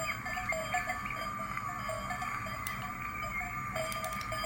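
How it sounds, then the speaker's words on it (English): A tinny, electronic cowbell clanking repeatedly over a steady hum, with faint chirping bird sounds, all at low volume like a small toy speaker, from a Carrera slot car truck. "You hear that cowbell and the birds chirping?"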